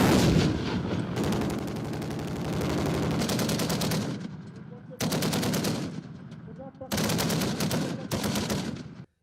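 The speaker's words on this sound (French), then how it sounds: "Une puissance de feu doublée de tirs de précision." Military machine-gun and artillery fire on a firing range during the Ferlo 2022 national manoeuvre: loud, sustained bursts of rapid gunfire in three long volleys separated by short pauses.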